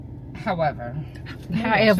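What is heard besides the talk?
dog barking and whimpering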